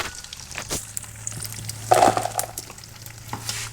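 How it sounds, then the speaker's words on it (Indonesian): Tempura and tofu frying in hot oil at a street-side food stall, a steady sizzle with stirring and scraping sounds, a louder burst midway, and no one talking. "Ini tempura sama tahu gocek digoreng."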